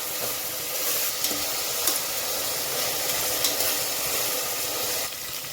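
Whole spices fry in oil in a pot for egg biryani with a continuous close sizzle, broken by a few soft stirring scrapes, and no voices.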